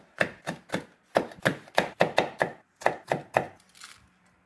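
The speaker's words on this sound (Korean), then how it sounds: "홍고추 2개를 잘라줄 건데요" Knife slicing red chili peppers into rounds on a cutting board, a close run of about a dozen crisp, evenly spaced chops, then a quiet pause.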